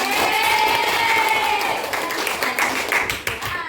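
Classroom applause from students, a burst of clapping from a group that starts dense and thins into scattered claps, with some background voices mixed in.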